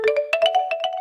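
A mobile phone chimes with a short run of bright, repeating electronic tones as an OTP text message arrives. The pattern is clear and fairly close, lasting about a second with no talk.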